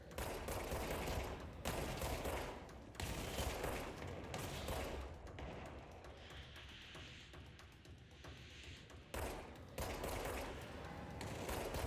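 Bursts of rapid gunfire in the video game Control, several loud volleys separated by short quieter gaps, heavier at the start and end.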